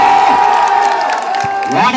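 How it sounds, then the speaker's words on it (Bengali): Crowd at a women's football tournament in Dinajpur cheers and shouts for Argentina supporters, a loud continuous roar with whoops and raised voices. "আর্জেন্টিনা আবার জোরে করতালি জানতো"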